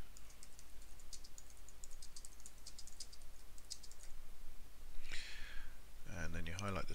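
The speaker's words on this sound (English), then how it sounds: "Type in your text" Quick, light keystrokes on a computer keyboard tap in an irregular run at low volume, followed by a voice speaking near the end.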